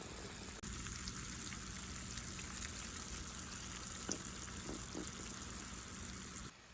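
Candy syrup boils hard in a pot for candied pineapples, a dense steady bubbling and sizzling hiss with a few sharper pops, close and moderately quiet, no voices.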